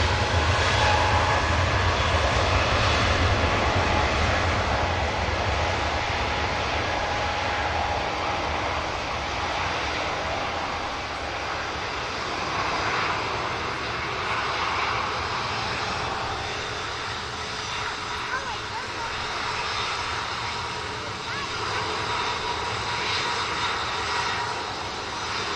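An Airbus A320neo airliner takes off from an airport, a sustained broad engine roar holding steady throughout and heard from a distance, without talk.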